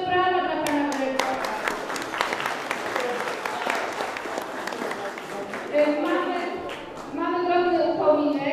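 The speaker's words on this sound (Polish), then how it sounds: "Duże brawa dla pana dyrektora." An audience applauds a director at an outdoor willow-tree festival in Małopolska, a steady wash of many hands clapping for several seconds, with voices talking over the applause.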